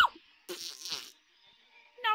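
A voice imitates a fart with two close, buzzing, raspy bursts, one short and one longer, followed by a brief, faint buzz after a pause.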